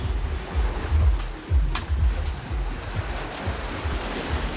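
Sea waves washing against an old pier in Odesa, where a former rescue station once stood, with broad low surges rolling in every second or so under steady wind, close and fairly loud, no voices.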